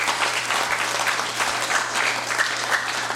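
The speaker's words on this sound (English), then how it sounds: "Let's please to give them a collective round of applause for the students." A congressional regular session audience gives a steady round of applause for visiting Christian high school students, dense continuous clapping from many hands that fills the hall at an even level throughout.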